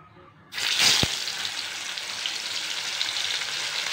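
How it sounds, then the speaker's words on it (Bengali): Rohu fish pieces hit hot oil in a pan with a sudden loud sizzle, then a steady, bright frying hiss continues close by with no talking. "মাছগুলো দিয়ে দেবো এবারে"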